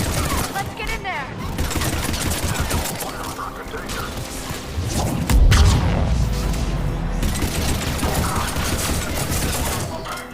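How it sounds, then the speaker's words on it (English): A sustained battle at a checkpoint in the video game Mass Effect: dense, continuous gunfire and bursts mixed with booms and mechanical noise, loud throughout with a heavy low thump midway, voices partly buried beneath. "They're under fire. Let's get in there!"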